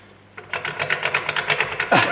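A worn wheel bearing off a Ford Mondeo is spun by hand, giving a rough, close grinding whir with a rapid pulsing rattle that rises sharply in loudness at the end.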